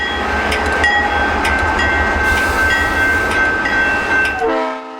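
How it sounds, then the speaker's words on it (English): A GE B39-8E diesel locomotive from the 1980s, formerly hauling coal in eastern Kentucky, rumbles past with a steady loud engine roar, squealing wheel tones and a brief horn-like note, fading and cutting off near the end. "This GE B39-8E engine was built in the 1980s"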